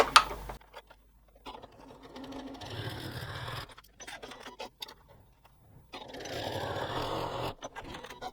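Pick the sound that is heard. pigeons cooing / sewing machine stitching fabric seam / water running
sewing machine stitching fabric seam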